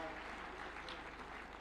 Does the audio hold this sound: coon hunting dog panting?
no